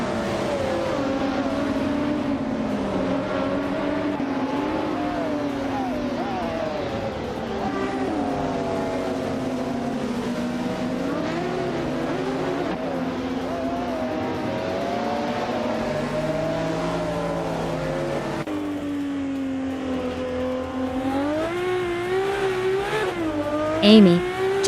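A 1996 Ferrari F50G race car in a racing game, its engine droning and climbing through gears with sweeping pitch changes as other cars whine nearby, sustained throughout.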